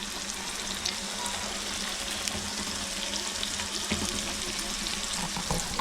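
Fish fries in a pan in a home kitchen, with a steady soft sizzle and spatter continuing quietly throughout and no voices.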